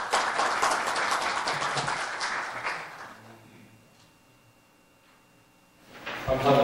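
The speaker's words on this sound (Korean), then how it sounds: "박수 부탁드립니다" Audience applause at a Korean expert forum on patent and competition policy as the keynote speaker is welcomed: a dense burst of clapping that fades out over a few seconds, then a quiet hall.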